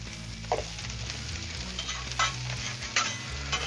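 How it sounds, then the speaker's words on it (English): Brats, peppers and onions sizzle steadily on a Blackstone griddle, a constant close hiss broken by a few sharp scraping clacks of a spatula, with no voices. "let's go ahead and throw our peppers and onions down here too"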